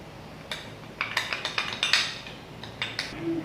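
A metal teaspoon clinks against a bowl or cup while salt is added for a sour-milk jelly dessert. A quick run of light, bright taps and scrapes goes on for a few seconds, close and fairly soft, with no speech.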